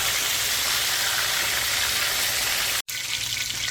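Country fried steak crackles and sizzles in hot oil, a steady dense frying hiss that holds loud and close, broken by one brief silent gap before resuming.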